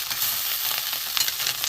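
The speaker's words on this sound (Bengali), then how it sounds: "চুনো মাছ উল্টে পাল্টে ভেজে নেব।" Small chuno fish sizzle steadily in hot oil for a fish curry, with light scraping as they are turned over in the pan; close and continuous, no talking.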